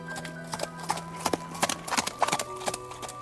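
Horse hooves clip-clop in a steady rhythm as a rider spurs the horse after a deer, part of a fairy-tale audio drama with a medieval knight setting; the close hoofbeats repeat over soft background tones.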